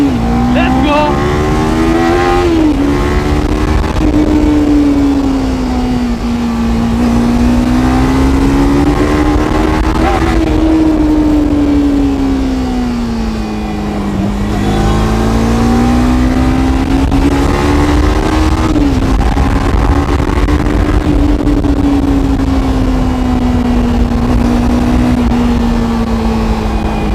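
A Kawasaki Ninja 300 motorcycle pulls along with a steady, loud engine drone whose pitch climbs and dips as it accelerates and shifts, with wind rush throughout.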